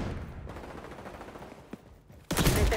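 Gunfire in the video game XDefiant: a muffled rumble of distant shots, then a loud, close burst erupting near the end.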